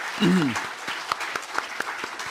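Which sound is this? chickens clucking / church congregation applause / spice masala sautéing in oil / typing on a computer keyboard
church congregation applause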